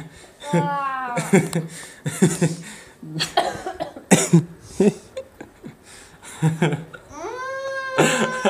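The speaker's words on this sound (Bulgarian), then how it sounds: "Що го кашляш, бе?" Close-up coughing bursts from a person during a cinnamon challenge, several rough coughs spread through the clip and mixed with laughter and voices talking around them.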